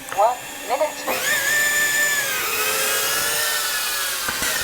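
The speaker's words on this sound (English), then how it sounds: "now it's time for the indoor flight" An indoor flight of a NewBeeDrone AcroBee75 2S whoop drone starts with a few brief chirps, then a high, whining buzz that rises and shifts in pitch as it flies close by. A voice briefly speaks near the start.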